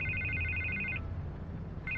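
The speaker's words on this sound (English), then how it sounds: "I can't get the phone to stop ringing." A telephone ringing in a Batman Telltale Series video game scene: a bright electronic trill ringing for about a second, a short pause, then the next ring starting, heard alone.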